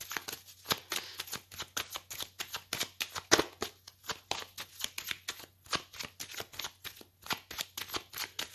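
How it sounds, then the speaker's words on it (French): Tarot cards are shuffled and cut by hand in soft, rhythmic riffling bursts that repeat steadily, close but quiet. "Je vais faire une coupe avec le tarot."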